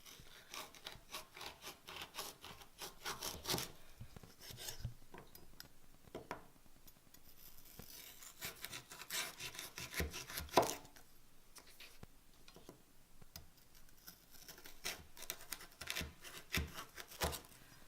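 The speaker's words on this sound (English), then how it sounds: "now I'm going to cut them up into thinner canes" A knife slices sugarcane lengthwise into thin quarters, giving faint, close rasping and chopping strokes in irregular bursts with quiet pauses between them.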